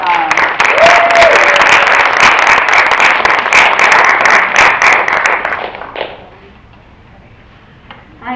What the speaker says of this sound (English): Can you please give a round of applause to Ms.